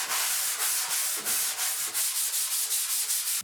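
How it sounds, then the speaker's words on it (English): Hand sanding a CNC-shaped surfboard blank with sandpaper, a steady rhythmic scratchy rubbing in quick back-and-forth strokes, close and alone. "go over the whole board super lightly with some sandpaper and sand down those ridges"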